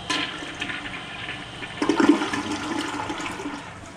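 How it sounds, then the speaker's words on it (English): A toilet in a La Quinta Inn & Suites hotel room in Longview, Texas flushes, a loud close rush of swirling water that surges midway and then settles into refill gurgling. "I'll go ahead and flush it."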